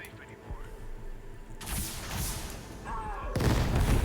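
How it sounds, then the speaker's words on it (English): Missile launches and explosions in the futuristic dark-fantasy strategy game Zephon, with TOW missiles firing in a few booming bursts that build toward a loud final blast over continuous game noise. "fire off those tow missiles"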